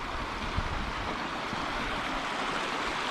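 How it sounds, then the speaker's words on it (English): Canyon Creek, a small stream on a dirt road near the Mogollon Rim, rushes in a steady, dense wash of flowing water, close and continuous with no voices. "It's a pretty little stream."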